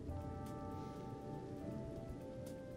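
Rain in Final Fantasy XV falls quietly and without a break, a soft wash of drops that stays the same from start to end, with a thin tonal hum underneath.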